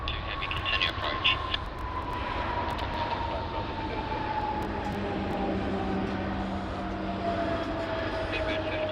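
A Jetstar jet takes off from runway 16 left at Sydney Airport, a distant, steady roar with a slowly falling whine that holds for the whole stretch at moderate volume.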